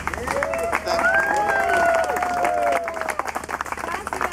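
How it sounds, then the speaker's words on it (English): Applause from a crowd at an urban organic farming co-op gathering, sustained clapping mixed with voices and chatter, with a tonal whistle or voice gliding above it midway. "I want to ask for a big applause for him"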